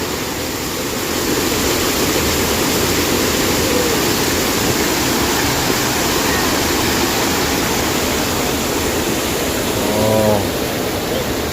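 Water rushing steadily at a dam in Sukhuma, a loud, continuous broadband roar that runs unbroken from start to end, with a brief low animal-like call near the end.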